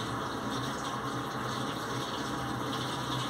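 Running tap water pours steadily over cactus roots being rinsed, a continuous close hiss and splash without pauses or voices.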